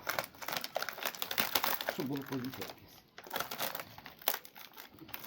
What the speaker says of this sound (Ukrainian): Я думаю, що я, мабуть, знімлю, бо це пакет